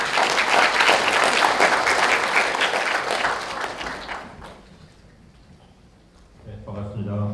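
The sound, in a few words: applause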